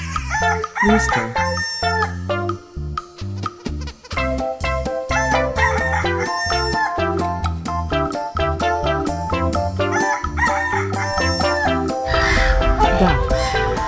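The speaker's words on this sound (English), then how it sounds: "Rooster." A farm rooster crows repeatedly, with loud, drawn-out calls and shorter clucking notes in between, heard clearly and up close.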